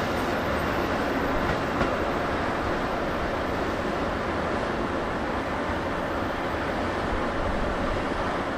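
Electric train standing at a platform of Okayama station in Japan, its steady mechanical hum and broadband rumble running continuously and fairly loud, with no voices.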